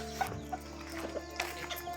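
Short, scattered clucks from a hen and rooster pop up over a steady low hum, a few close-sounding calls spread irregularly through the moment.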